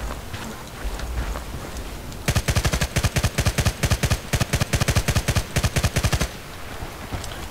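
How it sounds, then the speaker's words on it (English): An MG36/QBB-95 machine gun in Battlefield Play4Free fires at long range in clipped, rapid tap bursts of a few rounds each. The sharp, loud shots repeat for about four seconds after a stretch of ambient game noise. "So now we're gonna move on to long range tap firing"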